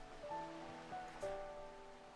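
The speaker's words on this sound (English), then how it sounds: "I like the sound of the waves." Soft ocean waves wash and surge faintly on an island in the gogh co-working app, a quiet looping surf ambience with gentle tonal chimes over it and no speech.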